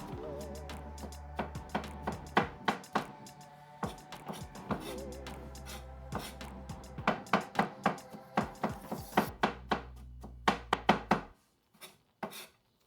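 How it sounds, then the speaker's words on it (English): A knife rough-chops sliced onions into small pieces on a cutting board, with rapid rhythmic knocks in bursts and short pauses, close and clear, over a faint low hum that stops near the end. "Go ahead and give them a rough chop. You want to get them into little small pieces."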